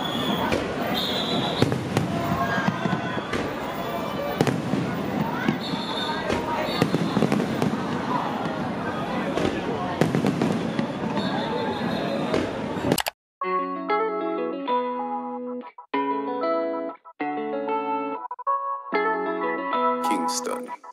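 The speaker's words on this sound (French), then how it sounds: "On a essayé de se rapprocher au plus près pour pouvoir regarder les feux d'artifice." A fireworks display crackles and booms in dense overlapping bursts, loud and close, with voices in the crowd, then cuts abruptly to bright electronic music.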